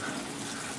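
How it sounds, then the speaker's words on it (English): A cup of water poured into crockpot chicken tortilla soup makes a steady, close, continuous splashing and trickling without any break. "I'm going to go ahead and add 1 more cup of water."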